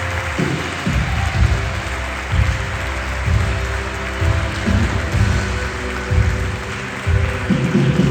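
A church congregation claps in applause for the Lord during a sermon, a dense, loud, sustained wash of many hands with rhythmic swells.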